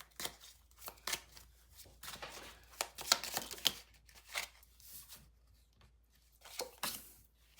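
A large deck of over 100 tarot cards shuffled by hand, heard as quiet bursts of riffling and flicking with short pauses between, close and soft with no talking.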